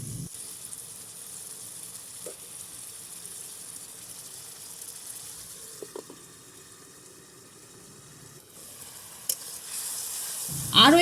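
Snakehead fish with drumsticks fries in a pan with water added, a soft continuous sizzle with occasional stirring clinks at low volume, rising to a louder burst at the end.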